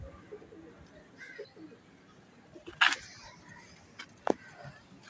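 Pet pigeons coo softly at close range in a rooftop loft, with a few sharp louder calls and wing sounds against quiet outdoor background; no talking.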